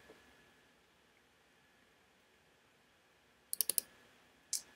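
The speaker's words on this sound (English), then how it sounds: "If I double click right there," A computer mouse gives a quick burst of sharp, close clicks, with a second single click a moment later, against a near-silent background of faint hiss.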